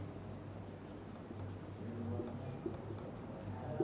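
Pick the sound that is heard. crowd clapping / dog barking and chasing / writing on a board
writing on a board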